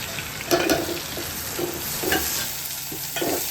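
Pounded fennel, cumin, pepper and crushed garlic fry in hot oil in a pan for a village fish curry, giving a steady loud sizzle broken by several scraping stirs of a spoon.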